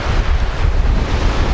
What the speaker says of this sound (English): The ocean breeze, the sea is clear, it's gorgeous.